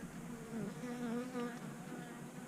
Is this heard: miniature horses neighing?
no